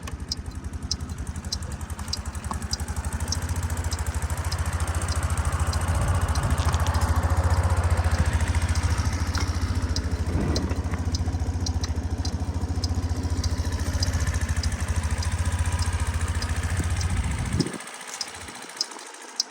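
Suzuki Address V125G scooter from Japan idling steadily and close by, a low even engine putter with light ticking, running for about seventeen seconds before cutting off abruptly into near silence.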